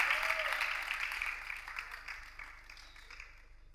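A studio audience at a French television show applauds as two women take the middle of the stage, a dense burst of clapping that slowly fades over a few seconds.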